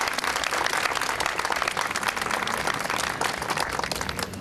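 An audience at an Apollo Theatre ribbon-cutting ceremony applauds a councilwoman, with steady dense clapping filling the room, close and even throughout with no voices over it.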